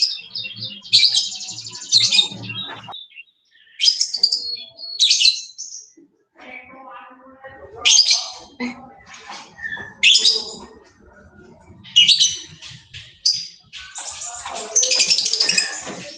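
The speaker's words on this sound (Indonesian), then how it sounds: "Itu burung apa yang sangat lincah itu?" Small, agile birds chirping and tweeting in repeated bursts, some high and bright, with faint background noise and occasional soft voices between the calls.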